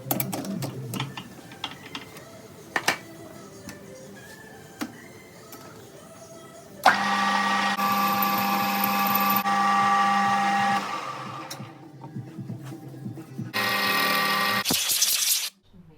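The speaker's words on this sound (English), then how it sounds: "we've just finished machining out the inside" Lathe or mill cutting out the inside of a motorcycle sprocket carrier while fitting a street bike rear wheel to a CBR 450 dirt bike, a steady machining whine and hum that starts abruptly partway, runs several seconds, then drops off.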